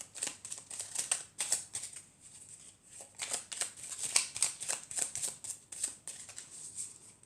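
A deck of oracle cards is shuffled and cut by hand, giving quick papery riffles and flicks in uneven bursts, close and fairly soft, with brief pauses between runs.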